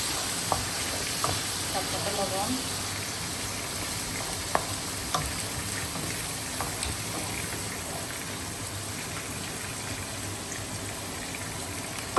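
Potatoes frying in a pan, a continuous hiss and sizzle with occasional stirring clinks and scrapes, steady and fairly close throughout.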